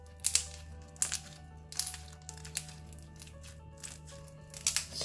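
Slime filled with polystyrene beads being squished by hand, giving faint crackling, crunching pops in irregular bursts, close up and quiet.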